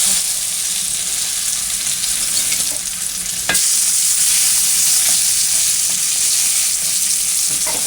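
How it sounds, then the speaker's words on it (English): Bacon sizzles and spits steadily in a pan after being turned over partway through cooking for a country breakfast, a dense close crackle with a brief sharp clatter midway and no voices. "I'm going to flip the bacon now. When you flip it, it's halfway down. The other side just has to cook."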